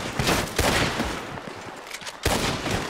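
Gunfire in Red Dead Redemption 2: several loud, sharp shots crack close by in an irregular burst, the last one after a short pause, with no talking.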